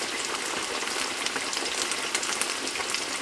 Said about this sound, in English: This is the great thing about frying bread.